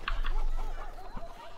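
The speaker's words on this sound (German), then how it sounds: "Ich werf nochmal einen Huhn." A chicken in the video game A Way Out clucks after being thrown, giving a few quick squawks and short bursts of clucking that are clear and close, with no talk over them.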